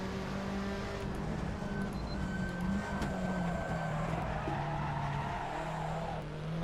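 Fiat Tipo in a racing video game at Barcelona with severe understeer, front tires squealing and scrubbing over a steady engine drone, sustained throughout at moderate loudness.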